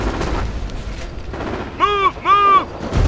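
Gunfire and artillery in a Company of Heroes battle, scattered distant booms and shots under a busy ambience, interrupted by two short tonal alert beeps.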